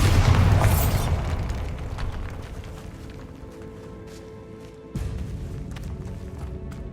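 A Bombarda blasting spell goes off in Hogwarts Legacy, a loud booming explosion up front that decays into a rumbling tail, followed by a second, softer thump later on.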